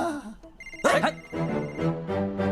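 A telephone rings in a scene from the 2025 Hindi film Sitaare Zameen Par, its bell tones running through the clip alongside voices and a sharp burst near the one-second mark.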